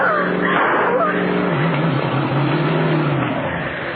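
A car cutting straight across lawns and fields at speed, its engine a loud continuous roar with rough rumbling, tires churning over uneven ground, close and steady throughout.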